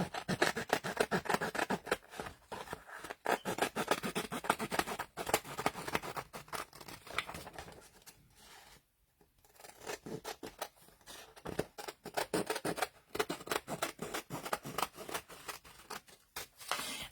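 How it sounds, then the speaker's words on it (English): Scissors cutting around the edge of card, with rapid crunching snips and rustling paper running almost continuously, close and fairly quiet, pausing briefly midway. "we're going to cut around the edge"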